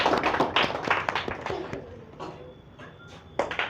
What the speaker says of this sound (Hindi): जोरदार तालियां बजाएंगे सभी।